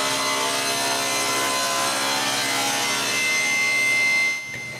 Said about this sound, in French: Ensuite, je coupe un champ de ma planche.